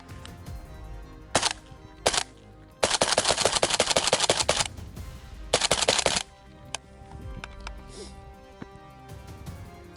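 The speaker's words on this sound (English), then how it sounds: "Gonna do some shots down range, see how quiet it is." Suppressed AK rifle fitted with a Rex Silentium suppressor fired down range, a rapid string of sharp, clipped reports in several bursts, some quick single shots, others strung into fast volleys, with quieter gaps between.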